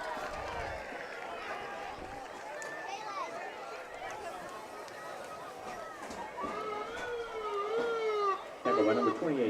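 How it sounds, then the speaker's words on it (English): An ambulance siren wails with a rising and falling tone as the ambulance pulls into a high school football game, heard at a distance under a crowd and a commentator's voice and growing louder toward the end. "Here comes the ambulance is coming in now to take him to the hospital."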